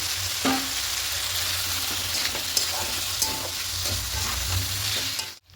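Cauliflower frying with a cardamom spice paste and cashews in a pan for a vegetarian cauliflower potato curry, a continuous close sizzle with periodic stirring scrapes and clinks, no talk, cutting off abruptly at the end.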